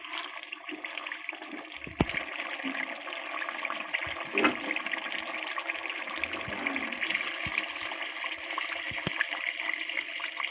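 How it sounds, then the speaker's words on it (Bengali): Hot water is poured into a pot of simmering country chicken curry, a continuous rushing, gurgling stream lasting several seconds, close and steady. "আমি এবার গরম পানি দিয়ে দিব।"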